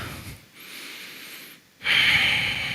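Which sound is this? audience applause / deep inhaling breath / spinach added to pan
deep inhaling breath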